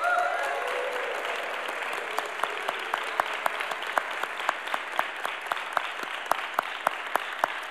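An audience at a jazz event applauds steadily for several seconds, fairly soft overall, with sharp individual claps popping out above the continuous patter.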